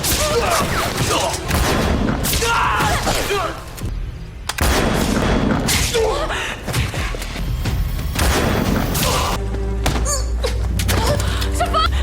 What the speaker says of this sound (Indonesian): Baku tembak di antara Jintai dan Xiaomi pun juga tak bisa dihindarkan lagi.